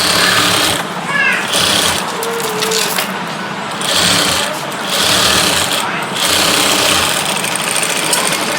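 A sewing machine stitching a heavy maggam work blouse runs in loud, close bursts of rapid mechanical whirring, pausing briefly between seams.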